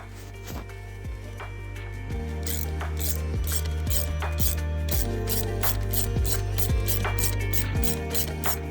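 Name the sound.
blind bearing puller pulling a bearing out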